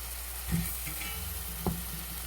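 Faint sizzling in a pan as flour is stirred into vegetables for chicken pot pie filling, with two soft scrapes of a utensil against the pan.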